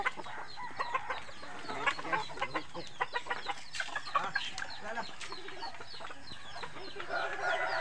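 A chicken clucks in a quiet outdoor setting, giving a series of short, fairly faint clucks at an uneven rhythm, with some soft background noise.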